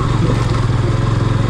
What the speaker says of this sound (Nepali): यहाँ किट किट किट किट किट किट साउन्ड आइरहेछ कि